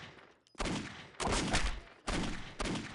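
Gunfire in the PC video game Postal 2 arrives as four sharp, loud bursts, each trailing off briefly before the next, with no talk over them.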